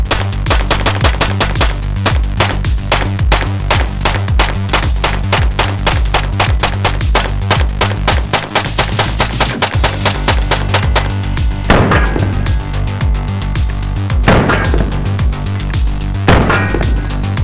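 Rapid pistol gunshots from a handgun with a Faxon Firearms slide and compensator, a loud, dense string of sharp cracks fired in quick succession, followed by a few slower, separate shots.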